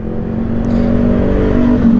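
An automatic motor scooter running on GPA Matic Special 10W-40 oil idles and revs with a loud, close, steady engine hum and a rising whine, with no talk.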